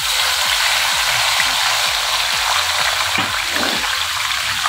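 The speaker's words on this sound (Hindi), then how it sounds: "थोड़ा सा पानी ऐड करेंगे।" A little water poured into a sizzling pan of curry for a stale roti salan, a steady broadband hiss of frying running throughout, with a slightly louder sputter near the end and no voices.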